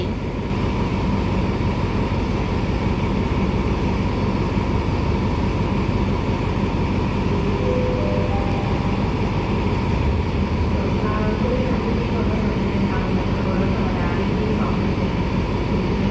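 Ordinary train 279 standing at Bangkok station as passengers board, a loud steady low rumble of idling locomotive and station noise with faint tonal whines, continuous throughout.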